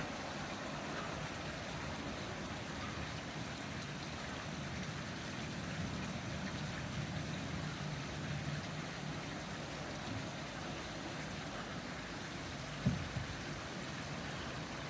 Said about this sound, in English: Typical, started raining.